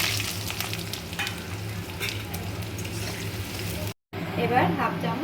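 Onions frying in oil with bay leaves, black peppercorns, cinnamon sticks, cloves and cardamom pods, a steady close sizzle with stirring scrapes that drops out briefly near the end before the hiss returns.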